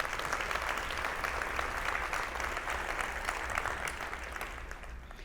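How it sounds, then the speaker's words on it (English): Sustained applause from a room of guests at a school district breakfast event honoring school staff, a dense steady clatter of many hands that holds evenly and eases slightly near the end, with no speech over it. "A round of applause for them"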